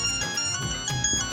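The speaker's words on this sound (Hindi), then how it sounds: "अरे ये तो किसी जूजी का फोन है, मेरा ख्याल रॉन्ग नंबर होगा।" A phone ringtone plays a bright, repeating electronic melody, loud and steady for just over a second with no talking over it.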